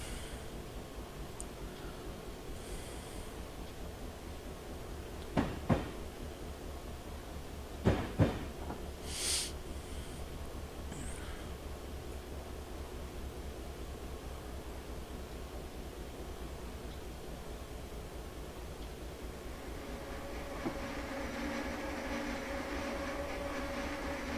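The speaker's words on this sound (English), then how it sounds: "we've just got to wait for the whole wagon to pass this switch set." A freight train, hauled by an NS GP38-2 locomotive, rolls past in Train Simulator with a steady, heavy rumble of wagons over a switch set, broken by a few sharp metallic clanks; no voices.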